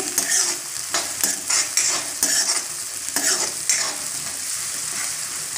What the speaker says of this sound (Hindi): अब इसमें लहसुन का पेस्ट डाल देंगे और साथ में अदरक भी डाल देंगे और कटी हुई हरी मिर्च डाल देंगे